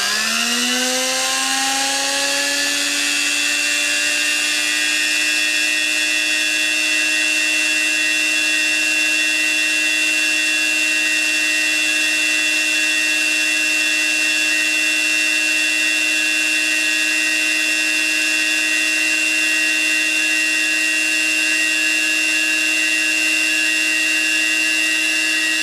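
A replica Ukrainian generator-motor spins up toward about 19,000 RPM, its whine rising steadily in pitch over the first few seconds and then holding a loud, sustained high tone with bright harmonics, close and uninterrupted, with no voices.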